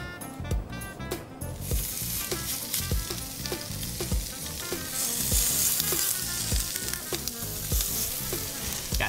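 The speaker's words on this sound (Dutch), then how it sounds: "Deze sushi, die gaan we bakken." Sushi sizzles and crackles loudly as it fries in a hot pan, with repeated scraping and stirring knocks at an uneven rhythm.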